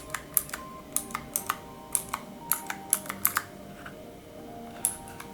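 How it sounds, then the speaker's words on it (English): Clicky MX-style Cherry Blue mechanical switches on a macro keyboard, sharp individual keypresses tapped in an irregular rhythm, close and distinct over a faint background hum, no talking. "The switches are essentially MX-style cherry blue switches. They're quite clicky as you can hear and provide a nice feedback."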